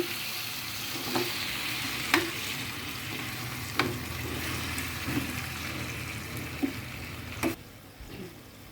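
Duck meat sizzles in a pan during preparation of a dark bhuna, a continuous close frying hiss with periodic sharp scrapes and knocks as a spatula stirs it every second or so.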